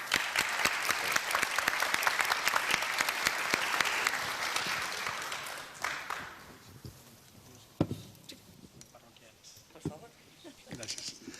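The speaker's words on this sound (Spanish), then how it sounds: "un aplauso para ustedes" Audience applause for forum panelists fills a conference hall, dense and steady for about six seconds, then thins to scattered claps and fades out as a voice speaks over the tail.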